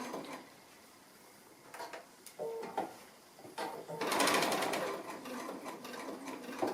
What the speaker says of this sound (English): So just stitching close to the edge, through the stiffening as well.